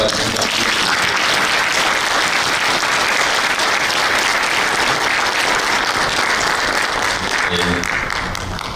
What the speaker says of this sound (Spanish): yo quisiera que un gran aplauso para ellos